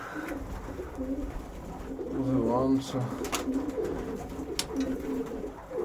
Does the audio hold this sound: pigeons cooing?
yes